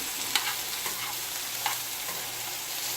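Food frying in a pan gives a steady close sizzle, with a few sharp spatula clicks as it is stirred.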